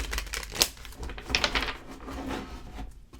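A rapid series of crisp card flicks and soft papery snaps, close up, with a few louder riffle bursts and no talking.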